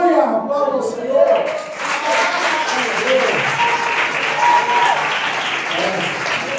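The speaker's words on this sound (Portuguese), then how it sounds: "Aplauda o Senhor." A church congregation applauds loudly and continuously, dense clapping filling the space, with voices mixed in underneath.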